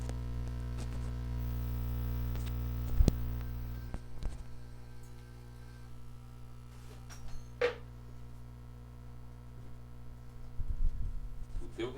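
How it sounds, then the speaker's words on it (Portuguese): A small electric fan cools an electric iron during a thermostat experiment, giving a steady low electrical hum with layered tones, broken by a few close clicks and knocks. "Vocês estão vendo o ruidinho aí, né? O ventiladorzinho para fazer barulho."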